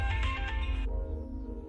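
A phone rings in a home with a bright repeating electronic ringtone that cuts off partway, leaving a low steady hum and room noise.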